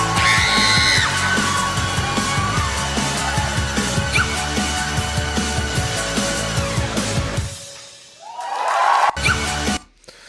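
A singer's prolonged scream closes a song, Czechia's Eurovision 2024 entry: a loud, raw yell over full band backing that drops out, then surges again briefly before cutting off.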